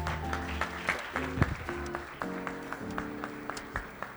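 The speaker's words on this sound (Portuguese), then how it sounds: "Uma salva de palmas." Audience at a lecture ceremony in São Paulo clapping, a sustained patter of many hands heard from a distance, moderately quiet against a steady background hum.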